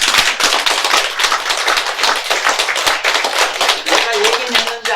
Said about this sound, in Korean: 박수 좀 쳐봐